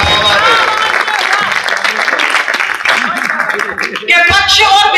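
An audience at a Hindi comedy show claps in a broad, dense burst of applause that lasts throughout, loud and close, with a voice talking over it.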